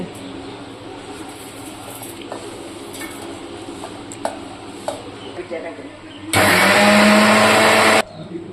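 A mixer grinder whirs loudly for about two seconds, blending roasted spices for Kolhapuri chicken, after a stretch of kitchen clatter and clinks near someone speaking; the motor starts abruptly and cuts off cleanly.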